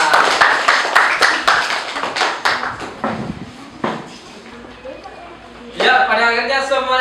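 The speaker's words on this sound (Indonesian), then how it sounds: "Ya, tepuk tangan untuk kelompok." A classroom group claps hands for a presenting team, a run of uneven close claps that thins out over a few seconds before voices take over.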